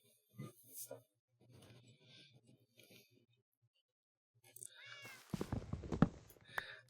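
A pet kitten in a Minecraft FTB Evolution modpack game meows faintly a couple of times amid sparse quiet game sounds. A louder burst of clattering game noise follows near the end.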